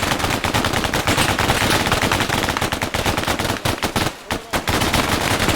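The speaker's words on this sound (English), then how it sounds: "Fucking machine gunner on our flank." Sustained machine gun fire in a Chechnya-set combat video game, dense rapid bursts of shots close and loud, nearly continuous with a few brief gaps before firing resumes.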